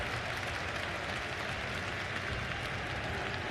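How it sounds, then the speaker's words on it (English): Crowd at The International 2024 Dota 2 match, Liquid versus Gaming Gladiators game 2, makes a steady, even roar of cheering that fills the hall and holds at the same level throughout, with no clear voices. "I can never tell if the crowd is cheering for a pick or if they're cheering for themselves being on screen right there."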